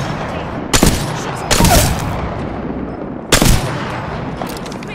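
Gunfire in an Apex Legends match, three short loud bursts of rapid shots spaced a second or two apart over a constant background of game ambience.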